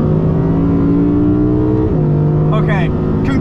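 An Audi R8 GT with a V10 engine holds a loud, steady droning note that drops in pitch partway through, as if easing off the throttle. Close, continuous engine sound with a brief higher whine near the end.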